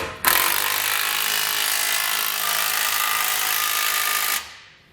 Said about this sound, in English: Then I'll use a 19mm socket and wrench to tighten down this bolt.